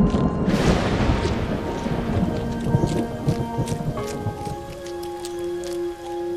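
Heavy rain in an animated folk-tale cartoon, a loud, dense downpour with a deep thunder rumble at the start, thinning later as sustained musical tones come in, no talking.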